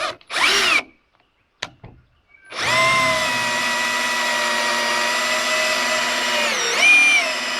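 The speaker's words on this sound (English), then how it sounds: "I'm going to use a little screw extractor out of this little kit" A power drill spins a small screw extractor into a stripped screw during a Dodge charging-system repair: two brief whirs, then a sustained steady whine that dips in pitch near the end, close and loud with no talking.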